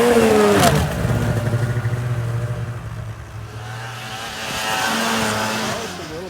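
A 2019 Indian motorcycle ridden with its rev limiter bypassed, engine note falling then building again in rising revs, moderately loud and steady, with some wind noise.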